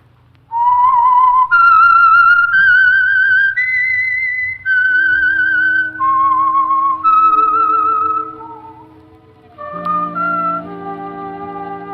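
A lone whistled melody, the theme signal for the Signal Oil radio mystery program The Whistler, rising and falling in clear sustained notes, joined near the end by soft orchestral tones.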